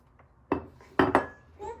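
Utensil clinking and scraping against a bowl while icing sugar and cornstarch are mixed for shortbread dough, a few sharp close knocks in quick succession with faint talk around them.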